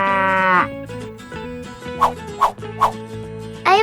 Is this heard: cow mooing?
yes